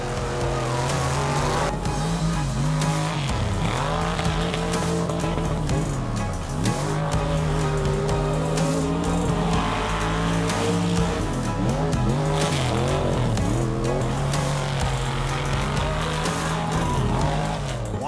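Off-road mega bouncer race car on a hill-and-hole dirt track, its engine revving and dropping continuously and loudly throughout, with tire noise and no talk.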